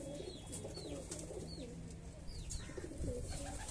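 Several pigeons coo in soft, repeated throaty calls, with a few higher chirps, over a low background rumble at quiet level.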